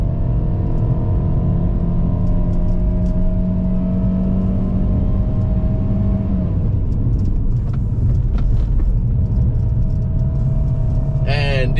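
GAC GS3 B-segment SUV with a 1.5-litre naturally aspirated engine and 6-speed automatic, climbing Genting hill: a steady engine drone holds, then drops as the gearbox shifts, with road rumble continuing beneath.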